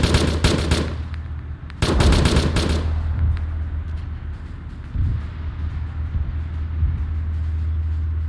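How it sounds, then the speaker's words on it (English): Video game gunfire in a tank battle: dense rapid bursts of shots crackle loudly in the first few seconds over a steady low engine rumble, then scattered distant pops continue under the droning hum. "Things are shooting at us."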